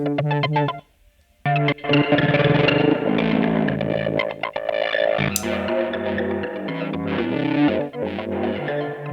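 Effected electric guitar chords chopped by a square-wave tremolo into choppy, on-off pulses, with a brief gap of silence early on and ringing notes throughout.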